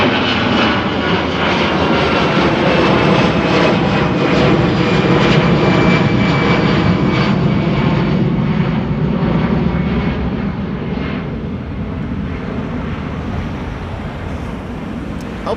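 A jet airliner departs Amsterdam Schiphol bound for London Luton, its engines roaring loud and steady throughout with a broad rumbling wash and slowly easing intensity toward the end; no talking.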